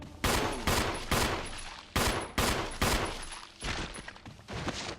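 Gunfire in the Resident Evil remake game: several loud, close shots in quick succession, then a looser run of fainter blasts, with no voices.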